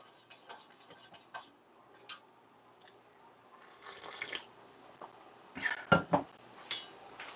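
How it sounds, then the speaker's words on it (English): A spoon clinks and taps inside a coffee cup in a home kitchen, a few faint scattered ticks building to a cluster of sharper close clinks near the end. "So let me stir my coffee."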